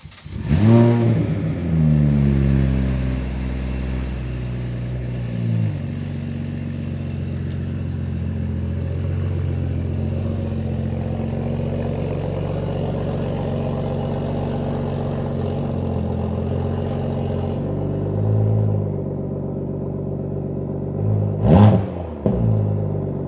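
An Infiniti G35 engine revs sharply at the start, settles into a long steady idle, then blips with another quick rev near the end, loud and close with no voices.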